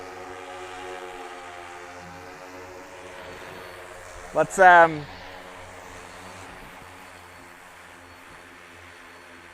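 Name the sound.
crop spraying drone flying and landing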